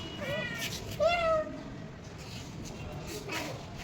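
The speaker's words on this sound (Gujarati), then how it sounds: "બિલાડી હે" Two short cat meows, the second a bit louder, rise faintly over a steady background hiss.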